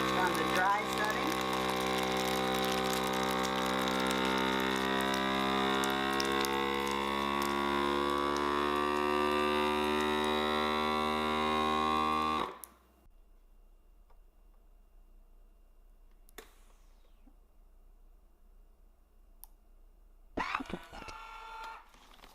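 A vacuum sealer on its dry setting sealing a bag of pasta gives a steady, loud mechanical hum that stops abruptly partway through, followed by near silence and a few faint clicks and rustles.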